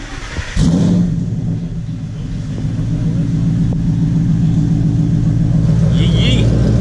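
A car engine fires and settles into a loud, steady low rumble at a lot with Camaros, Mopars and CTS-Vs nearby, with a brief rev; people talk over it.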